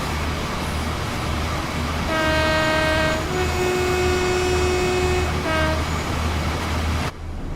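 A diesel locomotive rumbles along in Train Sim World 6 and sounds a loud two-tone horn in long sustained blasts, then a short final toot, over a steady low engine drone and rail noise.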